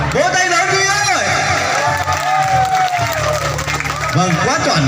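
Wedding guests clap in a loud, steady burst lasting several seconds, with a crowd murmuring and a voice carrying over the applause throughout.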